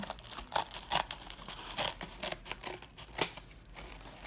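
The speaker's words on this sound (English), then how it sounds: "take my scissors here, make sure, and just cut." Close scissors snipping through crinkly mesh ribbon for a wreath, a series of irregular cuts with rustling and crackling between them, no speech.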